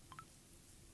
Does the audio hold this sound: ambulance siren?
no